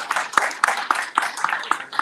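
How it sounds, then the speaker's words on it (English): Rhythmic, unified clapping greets Ms. Yanet Amanuel, ACLU of Maryland public policy director, at the 2022 Black Legislative Agenda Day, with sharp in-time claps about four per second from a nearby audience. "Clap it up for Ms. Yanet."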